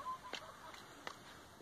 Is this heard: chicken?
yes